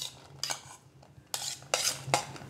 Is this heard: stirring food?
yes